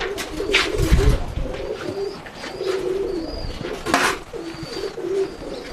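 A racing pigeon, a pair brought from Dubai, coos repeatedly in low, throaty rolls close by, the soft calls repeating every second or so over faint background noise.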